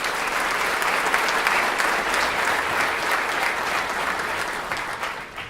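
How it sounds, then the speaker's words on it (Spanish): Sustained applause from an audience at a book launch in Asunción, steady dense clapping that fills the whole stretch and fades slightly toward the end. "Así que un aplauso también para Estela y para Julián."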